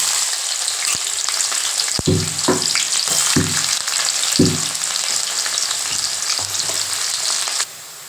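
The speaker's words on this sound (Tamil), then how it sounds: "வெங்காயம் நல்லா வதங்கிடுச்சுங்க" Onions sizzle and crackle steadily in hot oil while making curry leaf thokku, with a few stirring clinks and scrapes of a utensil against the pan.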